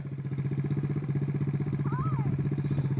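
A 50cc dirt bike engine runs close by at a steady, rapid putter with even pulses and no clear revving. A voice cuts in briefly partway through.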